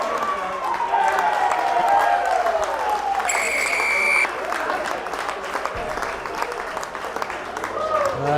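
A crowd at a Devonport Services versus St Austell rugby match applauds and cheers a try in a sustained wash of clapping, with whistles and a commentator talking over it.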